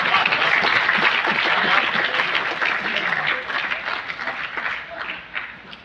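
Broad, dense crowd applause at a comedy night fills the space, steady and loud at first, then thinning and becoming more uneven toward the end.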